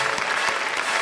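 An audience claps for a Kyrgyz folk-pop stage group in a brief burst of steady, dense applause with no one speaking over it.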